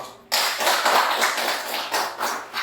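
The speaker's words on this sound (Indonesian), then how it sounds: "Kita berikan tepuk tangan untuk kelompok 2." Applause from a classroom of students for a student group, a dense burst of clapping that starts abruptly and holds loud and steady for a couple of seconds with no talk over it.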